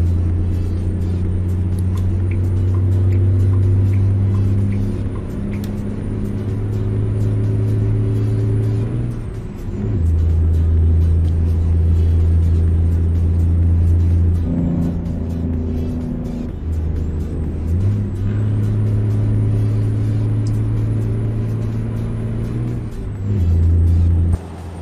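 An International 9900i truck in American Truck Simulator drones with a deep, loud engine rumble that rises and falls as it runs, briefly dropping during gear changes with a short air-brake hiss, no talking.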